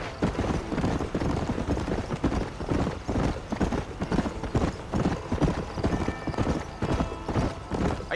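A horse gallops in the Red Dead Redemption video game, with dense, rapid hoofbeats pounding close and loud throughout and a faint whinny in the mix.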